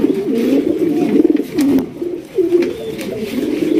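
A pair of deep red Sirazi pigeons coo in steady, rolling, repeated calls, close by and fairly loud, with faint background noise behind them.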